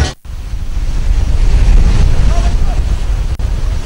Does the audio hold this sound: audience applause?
no